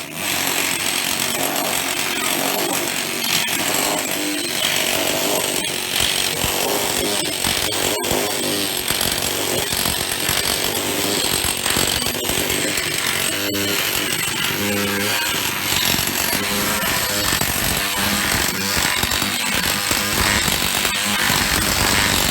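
An OX planishing hammer shaping sheet metal: a loud, continuous, rapid mechanical hammering roar that runs unbroken throughout, close by, with no talk.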